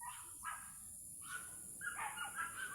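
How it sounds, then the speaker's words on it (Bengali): Faint, distant dog barks at monkeys come in irregular bursts, two early barks followed by a cluster of overlapping yelps near the end, over a quiet outdoor background with a steady high-pitched hiss. "বানর আর কুত্তা গেউ গেউ লাগাইছে"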